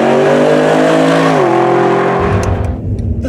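A Mercedes SLS AMG sports car engine revs hard, pitch climbing through a gear shift, then the roar fades into rushing road noise.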